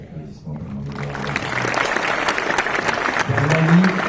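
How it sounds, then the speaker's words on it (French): A premiere audience for the French film Je suis là applauds the producer, clapping building after a voice and holding at a fairly loud, steady level, with speech rising again near the end. "un petit applaudissement pour mon"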